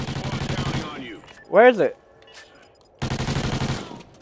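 Rapid automatic gunfire in Call of Duty: Ghosts, two close bursts of fast rattling shots separated by a pause in which a player briefly speaks.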